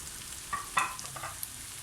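Chopped onions and peppers sizzle quietly in a hot pan, with a few brief clinks and stirring scrapes over the steady frying hiss.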